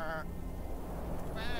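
Goats pulling a chariot bleat twice, once at the start and once at the end, with a continuous low rumbling bed running underneath.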